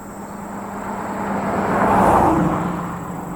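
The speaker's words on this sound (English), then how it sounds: "Comes a car, so I better stop off here." A car approaches and passes on a rural road in Harvey County, a smooth tire and engine whoosh swelling to a peak midway and then fading, over a steady background hum.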